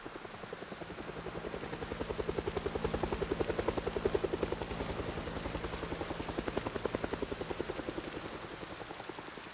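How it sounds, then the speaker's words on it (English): A video game helicopter's rotor thumps steadily throughout, a fast rhythmic chopping that swells slightly in the middle and stays fairly close. "Helicopter."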